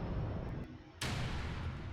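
A Bane Lord titan firing on a Warlord in Adeptus Titanicus: over a steady, dense rumble of battle, one heavy, bright, booming discharge breaks in halfway through and keeps roaring to the end.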